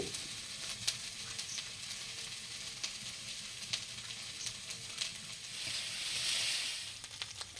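Ginger, garlic and onion fry in a pan on a clay stove, a steady quiet sizzle with scattered crackles and a brief louder hiss near the end, no voices.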